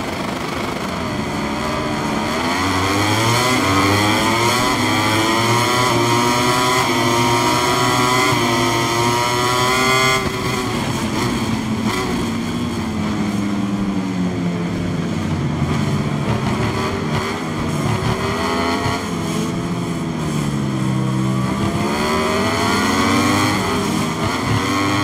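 MotoGP 2023 racing motorcycles in a video game at Sepang International Circuit for the Malaysian GP, a loud, continuous high engine whine rising and falling in pitch as the bikes accelerate and shift.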